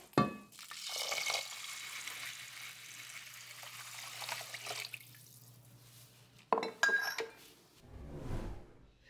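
Water poured into a pan of rinsed lentils with kosher salt, heard as a close splashing, trickling pour with clinks of the pan, alone without talk, a short burst near the end.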